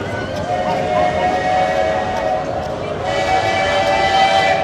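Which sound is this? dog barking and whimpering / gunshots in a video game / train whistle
train whistle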